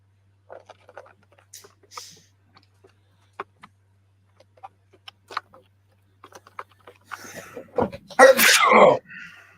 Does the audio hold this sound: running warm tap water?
no